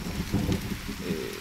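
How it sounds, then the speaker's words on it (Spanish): Rain falling in the survival video game The Forest, a steady, dense hiss of rainfall with a soft low rumble underneath, continuous and fairly close, with no talking. "se ha puesto a llover por casualidad o no"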